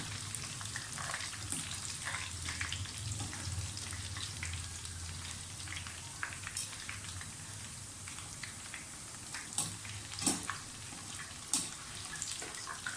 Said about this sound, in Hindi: तो पहले फ्राई करें अच्छी तरह से, इसका गोल्डन ब्राउन सा कलर आपने लेके आना है।